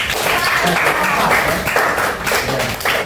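Classroom students applauding a presenting group in an Indonesian school lesson, loud continuous clapping with brief pauses and surges, voices mixed in.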